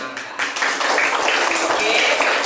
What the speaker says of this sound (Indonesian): Tepuk tangan untuk kelompok semangka.